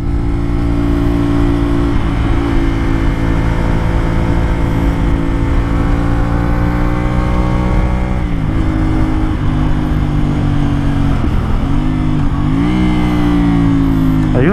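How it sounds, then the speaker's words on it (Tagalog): A CFMOTO 450SR sportbike engine drones loud and close at steady revs, then drops pitch in a few distinct steps as it downshifts and the engine braking pulls the revs down, with brief rises between. "kumagat yung engine brake nung binaba ko ng dalawa"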